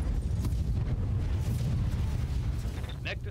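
Mech blowing up in a MechWarrior video game, a rumbling low boom lingering with crackling bursts and a sharper pop near the end, with some voice mixed in.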